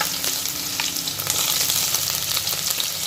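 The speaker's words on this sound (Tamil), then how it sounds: "இந்த வெங்காயத்தை சேர்த்து நல்லா வதக்கிக்கலாம்" Onions sizzle loudly and steadily in hot oil in a pan for mutton dalcha, a dense continuous hiss with faint stirring scrapes, close and without talk.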